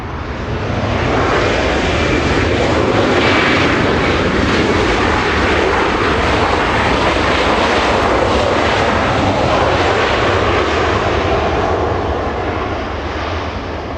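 Steady, loud roar of jet airliner engines at Los Angeles International Airport at dusk, a broad rumbling wash that holds unbroken and close for the whole stretch with no voices.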